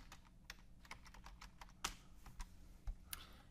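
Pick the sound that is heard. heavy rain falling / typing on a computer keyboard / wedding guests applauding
typing on a computer keyboard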